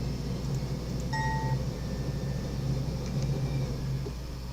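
An eastbound train approaches, a low steady rumble with faint metallic squeals and clinks, moderately distant and slowly building.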